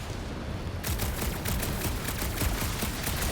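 Rapid gunfire in the Guardians of the Galaxy video game, a dense run of sharp repeated shots that starts abruptly after a moment of lower rumble and continues loud and unbroken.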